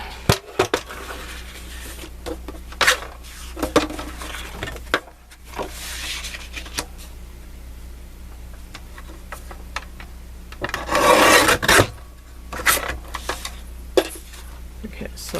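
Card stock being cut lengthwise for card making, with scattered snips, taps and rustles, a longer scraping cut near the end, and a constant low hum underneath.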